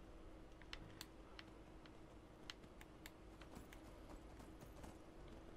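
Horse hooves clip-clopping in Skyrim, a series of light irregular taps over a low steady ambient hum, fairly faint and unaccompanied by talk.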